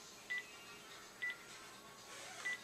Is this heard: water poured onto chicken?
no